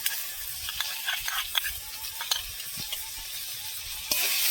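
Prawns frying in a pan with a little sour yogurt and tomato, giving a steady broadband sizzle with scattered crackles and small pops throughout, close and even, rising slightly louder at the end, with no talking.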